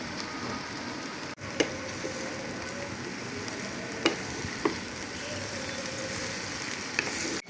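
Cabbage, carrot and potato fry in a pan with a dense, continuous sizzle, while a spatula scrapes and taps a few times as the vegetables are turned over.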